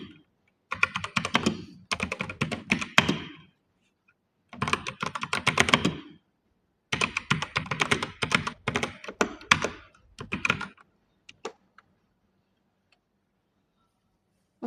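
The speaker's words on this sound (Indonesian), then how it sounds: "Jadi kita ketik di sini." Fingers tap quickly on a computer keyboard in several bursts of rapid keystrokes separated by short pauses, close and clear in a quiet room, fading to a few isolated taps at the end.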